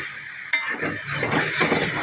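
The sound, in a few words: stir-frying vegetables with turmeric and chili in a pan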